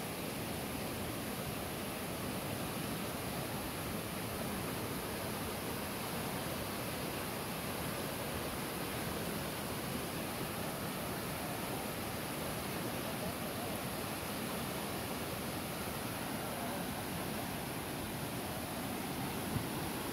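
Swollen Diamante river in flood, rushing water making a dense, steady roar that stays constant and fairly distant throughout with no clear voices.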